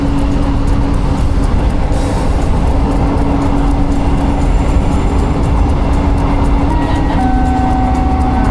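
A Jabodebek LRT light rail train near Jakarta runs steadily with a constant low rumble and rolling hum, a faint tonal whine holding throughout and rising slightly near the end.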